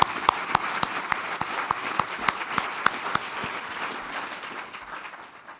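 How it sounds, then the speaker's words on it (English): An audience at a civic gathering applauds, with a dense wash of clapping and a few distinct nearby claps. The applause thins out toward the end. "Please give them a round of applause."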